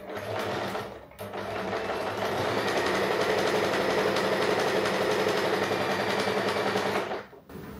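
Sewing machine stitching a pair of pants runs in a fast, steady whir, close and loud for several seconds, with short pauses at the start and end.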